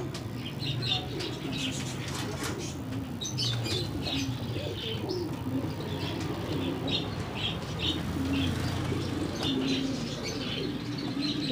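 A White American breeder pair of fancy pigeons coos and chirps in a busy shop, with soft wing flutters and steady background murmur running throughout.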